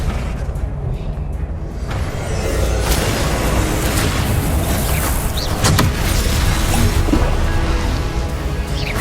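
Confringo fire-blast spells explode in Hogwarts Legacy amid dense, continuous booming and rumbling battle noise with sharp cracks layered over it, loud throughout.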